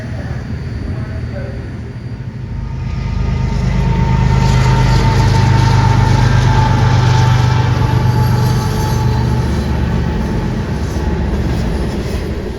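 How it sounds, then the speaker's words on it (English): A train rumbles past on the tracks at Potomac Yard station in Washington DC, a loud, steady roar with rail noise and faint high squeals that builds up and then holds. "including Amtrak and VRE for passenger trains and CSX for freight, pass through here"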